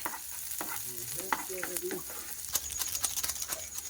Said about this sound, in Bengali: রসুনটা হালকা ভেজে নেব এবার দিয়ে দেবো পেঁয়াজ কুচি লঙ্কা কুচি সব বাদামি কালার হয়ে আসা অবধি ভেজে নেব